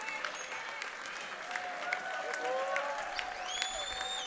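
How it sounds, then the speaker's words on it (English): Crowd applauding in a high school gym during a Caribou boys' basketball game at Fort Kent, with scattered claps, whistles and squeaky tones over a constant patter. "Both of those guys also get a nice applause from the crowd"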